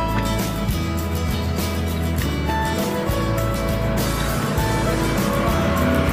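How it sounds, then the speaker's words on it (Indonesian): Motorbikes pass along a roadside with a steady, close engine drone that swells as each machine goes by, continuous and fairly loud throughout, with no talk. "suara motor karena ya gitulah kalau bermain di pinggir jalan"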